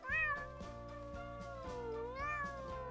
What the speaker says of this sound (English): I see a purple cat looking at me.